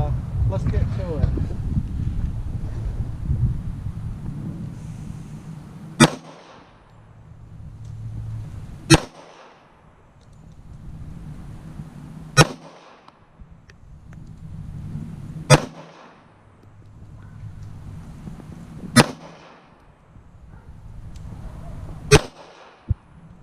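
Six sharp, loud shots from a Colt .45 Government model pistol at a gun range, spaced a few seconds apart in an even rhythm, with people talking between shots and outdoor background noise.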